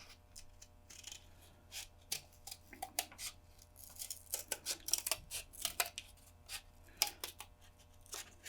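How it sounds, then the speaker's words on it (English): Kitchen shears snip and cut through trash material in a quiet room, a loose run of sharp, uneven clicks and crunches, some louder than others, with no voices. "I'm going to cut this one up. I'm going to use my kitchen shears."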